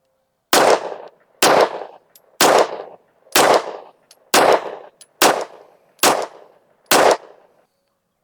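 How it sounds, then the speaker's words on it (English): Ten-shot group fired from a pistol using 124 grain Summit City bullets at a range, eight sharp, loud single shots spaced about a second apart with quiet between each. "I got 10 rounds of 124 grain Summit City bullets loaded up. Let's shoot a 10-shot group"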